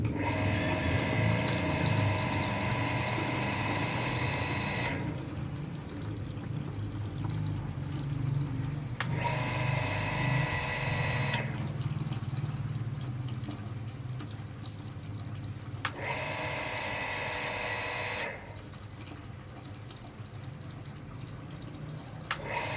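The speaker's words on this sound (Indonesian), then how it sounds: "keran di sana itu sengaja saya buka sebagian saja sehingga nanti akan cetak-cetek" A household water pump cycles on and off every five to six seconds with a tap left partly open. A steady humming whine alternates with quieter stretches of running water, loud and close.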